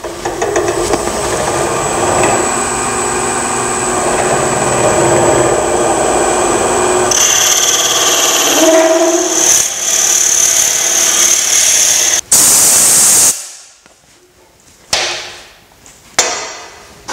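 Woodturning a pepper mill on a lathe: steady abrasive whirring of drilling and sanding on the spinning wood, then the machine winds down, followed by a few sharp handling knocks near the end.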